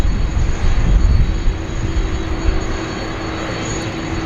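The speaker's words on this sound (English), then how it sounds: "Another daily arrival there, the Singapore Airlines A380." A Singapore Airlines A380 jet arriving at Sydney Airport gives a steady, loud engine roar with broadband rumble and a high whine, continuous throughout and heard from a spotting position without talk.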